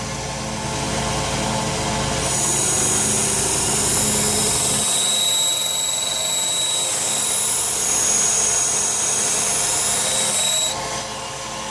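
A 1x30 belt sander running continuously while a knife is sharpened on it, a loud steady whine with a high-pitched grinding hiss as the blade meets the belt through the middle stretch.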